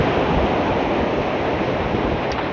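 Ocean surf breaking on a beach, a steady loud wash of waves with constant rushing noise and some wind, no voices.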